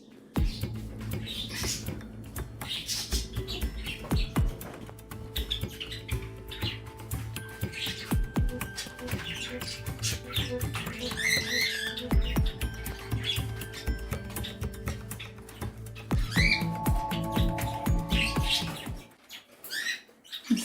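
Parrots chirp and tweet in a bird room full of toys, a busy continuous patter of small calls and scratchy movements with bright whistled notes, fairly close throughout before a brief quiet at the end.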